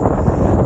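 Cold wind buffets the microphone at a hill fort, a loud, low continuous rumble with no other sounds.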